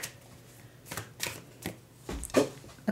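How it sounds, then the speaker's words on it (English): Tarot cards are shuffled by hand in several quick riffling bursts, crisp and close, with brief pauses between them and no speech. "let me shuffle the cards"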